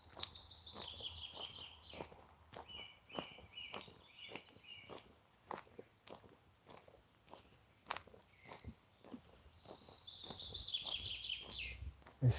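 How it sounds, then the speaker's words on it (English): Birds chirp and sing outdoors in short repeated phrases, moderately close, mixed with footstep-like crunches and scattered clicks throughout. "There's so many birds."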